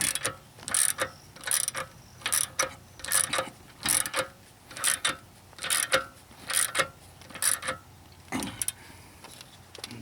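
A ratcheting wrench is cranked repeatedly to force apart the lower ball joint on a 2000-2007 Ford Taurus, a close, rhythmic series of about a dozen sharp clicking bursts in steady succession with no talk.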